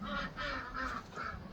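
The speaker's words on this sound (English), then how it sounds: "We can have Dabble's ducks, or I guess I can call them Ron's ducks now, over here in their pen" Ducks in a barn pen during winter, quacking and honking calls repeating in quick succession, close and fairly loud, with no talking.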